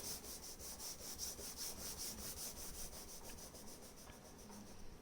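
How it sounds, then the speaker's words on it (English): A drawing medium is rubbed back and forth across paper to fill an area of a mixed-media still life. The faint, rhythmic scratchy strokes come about four per second and continue steadily throughout. "So just fill up this space just by rubbing it."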